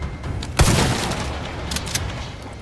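A shotgun blast in the VR game Resident Evil 4 Remake, with one loud, close boom and a lingering tail, followed by fainter shot-like cracks nearer the end.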